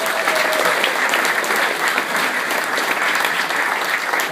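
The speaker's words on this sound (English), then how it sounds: "So I think you should all give yourselves a nice round of applause." Attendees at the Bryan, Ohio Class of 1964 50th reunion program give a loud, sustained round of crowd applause, dense and even from start to finish.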